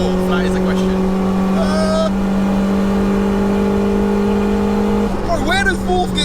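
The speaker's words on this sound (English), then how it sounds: "Send it around the corner. Full throttle. Can you get to the end of fourth?" A turbocharged 1-litre Nissan Micra pulls hard at full throttle, its engine droning loud and steady from inside the cabin, with a gear change or lift near the end and people talking over it.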